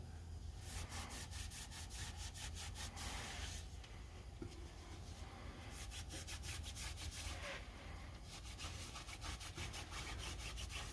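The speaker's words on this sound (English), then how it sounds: "just gonna go around and wipe this whole thing" A rag rubbing and wiping around a Ford F250/F350 rear axle housing (Dana M275), rhythmic close scrubbing strokes in bursts over a low steady background hum, no talk.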